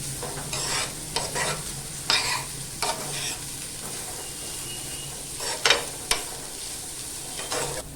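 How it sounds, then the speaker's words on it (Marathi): Grated sweet potato sautéing in ghee crackles softly under repeated scraping strokes of a spatula against the pan, arriving in uneven bursts over a continuous low sizzle. "आता रताळ्याचा खीस असा ना तुपामध्ये छान असा परतून झालेला आहे"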